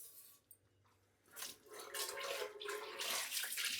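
Water poured into a non-stick pot during washing: a few faint sounds at first, then a strong, steady splashing rush builds and carries on to the end.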